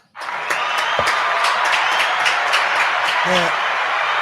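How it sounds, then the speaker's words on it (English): Applause from a crowd at a live show, a steady, dense wash of clapping that rises quickly and holds at a loud level throughout, with a voice briefly heard near the end. "Let's give a round of applause for the menu, man."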